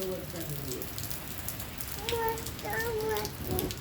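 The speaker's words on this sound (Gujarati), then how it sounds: "બહુ જ નો વરસાદ વરે" Heavy monsoon downpour in Chhara village, a dense steady hiss of rain on surfaces filling the whole clip, with a voice talking over it.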